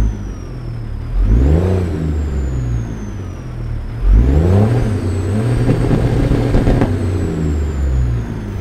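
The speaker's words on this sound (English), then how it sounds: "let's start this engine. I love this DD60 guys, I hope you like it too, let's hear it" A Peterbilt 379 truck with a DD60 engine starts up in American Truck Simulator: a starter crank, then the engine catches with a deep rumble and revs, settling into a steady idle, loud and close with no talk.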